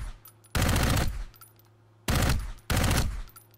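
Three loud bursts of rapid automatic gunfire aimed at a fortified turret in the video game Dark Void, each burst about half a second long and separated by short pauses, with no talking.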